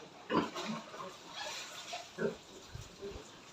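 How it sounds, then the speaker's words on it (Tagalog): A young gilt pig at its feed gives a few short, close grunting snorts with brief pauses between them, quiet against a low background. "Dalagang baboy. Kain."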